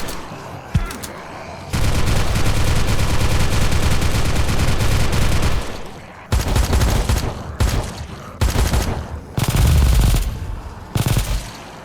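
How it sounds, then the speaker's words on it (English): Gunfire in the zombie video game Journey Through The Undead: loud sustained automatic bursts and rapid volleys, broken by brief pauses, dense and close throughout. "The sound design for guns could also be a little bit improved"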